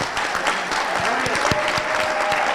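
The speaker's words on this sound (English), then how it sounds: "I'd also like to ask you to join me in giving another round of applause" Audience applause for an incoming medical school intern class at a white coat ceremony, a brief, dense wash of clapping in a hall with a faint tone running underneath.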